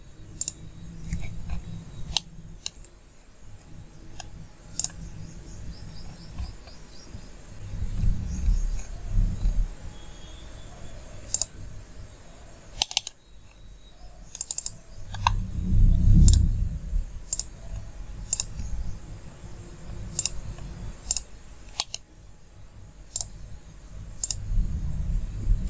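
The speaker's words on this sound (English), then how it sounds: "we will click on delete segment, then click on this unwanted segment of the circle." Mouse clicking while working in Creo Parametric CAD software to design a wheel rim, a scattering of sharp, short clicks at irregular intervals over low room hum and soft handling noise, fairly close and with no talk.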